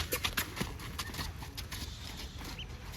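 Steady rhythmic clip-clop of a horse's hooves at an easy canter on a lunge line, fairly close, with a low rumble of movement underneath.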